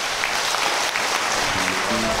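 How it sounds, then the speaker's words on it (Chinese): Crowd applause at a spiritual gathering, welcoming the Moon Festival song about remembering the Master's grace, a steady dense wash of many hands clapping throughout, with faint voices underneath. "鼓掌欢迎。"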